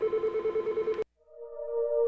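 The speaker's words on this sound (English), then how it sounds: "I see the phone ringing" A telephone rings in a radio studio, a pulsing electronic trill for about a second, then a steadier two-tone ring that swells, loud and close with no talk.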